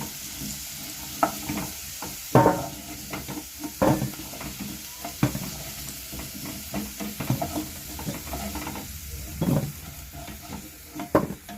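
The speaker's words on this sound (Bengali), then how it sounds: "আলুগুলো আমার ভাজা হয়ে গেছে, এবার আমি তুলে নিচ্ছি" Fried potatoes are lifted out of hot oil in a pan, a soft continuous sizzle broken by irregular scraping and clinking of a spatula, close and moderately quiet.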